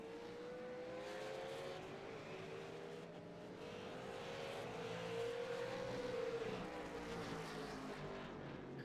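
V8 Supercars race cars roar past at a distance, a steady engine drone rising and shifting pitch as several cars battle for position.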